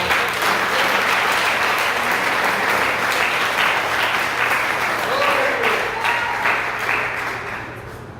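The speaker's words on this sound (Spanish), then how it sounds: "Demos ese aplauso más fuerte al Señor." A church congregation applauds the Lord loudly and steadily for the whole stretch, a dense wash of clapping that tapers slightly near the end.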